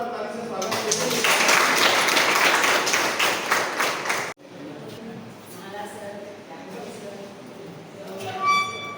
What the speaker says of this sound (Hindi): तो एक बार जोरदार ताली से स्वागत कीजिए